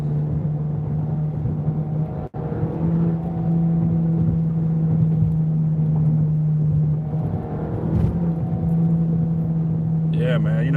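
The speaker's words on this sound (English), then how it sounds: "All I did was just hit the gas real quick." A Toyota Supra Launch Edition engine drones steadily in traffic, a constant close hum under road noise, with a brief dip and a short surge as the throttle is blipped near the end.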